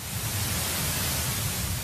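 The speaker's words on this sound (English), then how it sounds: "As hissy as the early cosmic sound is, it differs from pure white noise" Sonified sound of the early universe, a steady hissy broadband noise like static, loud and uniform throughout without any other sounds.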